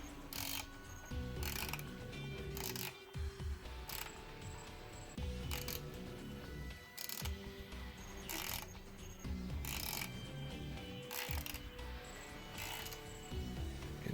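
A ratchet socket wrench tightens ignition coil bolts on a 5.3 LS swap, close and loud, with bursts of rapid ratcheting clicks separated by short pauses repeating throughout.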